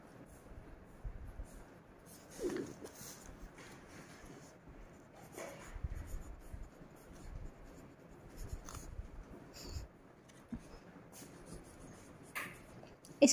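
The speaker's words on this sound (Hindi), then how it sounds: "ये लिए ऊपर इसका नेम लिखेंगे" A pen writes on paper, noting a name at the top of an accounts page. It is a soft, close scratching with short strokes and pauses, steady throughout, and there is no talk.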